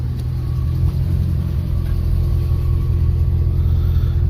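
A 2004 Dodge Ram's 5.7 Hemi V8 idling steadily, a deep, even rumble held close and loud throughout with no talk over it.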